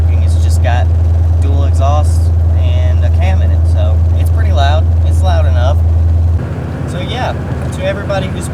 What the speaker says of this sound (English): It's just got dual exhaust and a cam in it, so it's pretty loud.